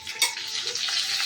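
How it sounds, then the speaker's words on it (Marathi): Spice masala with onion-garlic masala, chutney and curry leaves fries in oil in a pan while being stirred, a close, continuous hiss and sizzle with a brief scrape near the start and no voices. "असं हलवून घ्यायचं."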